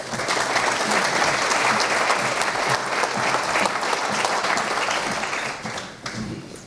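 An audience at a State of the Community event applauds to welcome Commissioner Ray Mayo, steady loud clapping from a full room that holds for several seconds and then tapers off.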